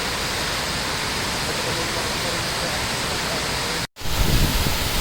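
Dense, roaring rush of falling water from the Pittala Borra waterfall fills the clip evenly, broken by a brief cut near the end before the roar resumes.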